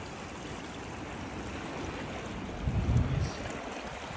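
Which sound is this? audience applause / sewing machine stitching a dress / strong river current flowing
strong river current flowing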